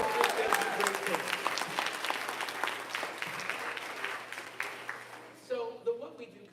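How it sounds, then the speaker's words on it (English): An audience at a high school fall choral concert applauds with dense, steady clapping that fills the room, tapering slightly toward the end. "It's round of applause for all of them."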